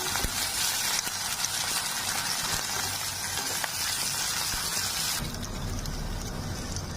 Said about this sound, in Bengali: পেঁয়াজ কুচি রেখেছি দুটো, সেটা দিয়ে দিচ্ছি তেলে। পেঁয়াজটা আমি ভেজে নেবো।